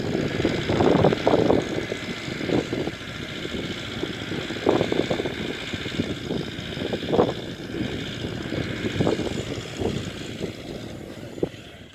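A tractor pulling a sprayer through a pear orchard drones steadily, its engine noise surging and dipping in uneven pulses, with no talk.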